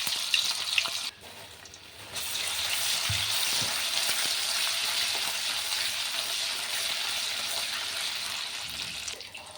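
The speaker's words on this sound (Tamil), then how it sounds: "பேன் ஹீட் ஆயிடுச்சு. இப்போ நான் இஞ்சி பூண்டு வச்சுக்கிறேன்." Ginger and garlic fry in a hot pan with a steady, loud sizzle that holds throughout, briefly dipping near the start before settling into continuous crackling.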